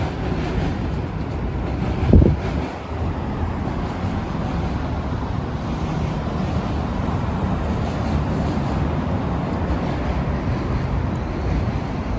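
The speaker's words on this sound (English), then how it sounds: "Got a Via train going by here." A steady, broad rumble of a passing Via Rail passenger train near docks fills the whole stretch, with wind buffeting the microphone and a brief thump early on.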